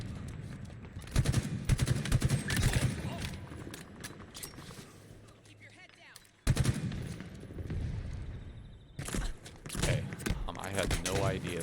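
Gunfire in a Halo-style big team fiesta match, sharp bursts of shots in several clusters, fairly loud and close, broken by a brief lull, with a voice talking over much of it.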